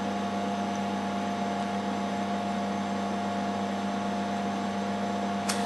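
A DermaSweep microdermabrasion vacuum machine running with a steady, even electrical hum and a faint airy hiss, continuous and unchanging throughout with no voices.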